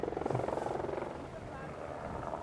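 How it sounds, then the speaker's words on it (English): A helicopter flies low near water to chase off a swarming locust cloud, its rotor thudding in a fast pulsing beat that stays moderately loud, with a voice talking over it. "the helicopter chases away the locusts that swarm near the waters"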